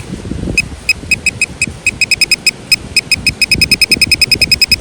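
Sharp electronic beeps from a metal detecting pinpointer repeat close by in a park, starting sparse and speeding into a rapid, steady pulse near the target, with low handling rustle underneath.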